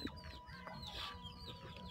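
Chickens clucking outside, heard faintly and at a distance in soft, scattered calls, with a brief sharp knock at the very end.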